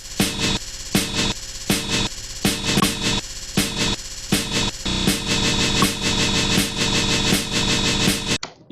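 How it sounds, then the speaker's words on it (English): Unwarped drum sample played back at original speed in Ableton Live, a snare hit at the start followed by a steady pattern of punchy drum hits over a dense, busy loop, with no talking. "You could hear that snare right there at the very beginning of it. It sounds like a snare."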